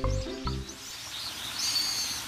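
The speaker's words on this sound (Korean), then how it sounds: "지금 물소리하고 새소리가 들리는데요." Birds chirp and call in short, bright bursts near a gallery cafe beside clear running water in Jeju, with a low rumble at the start and steady background ambience throughout.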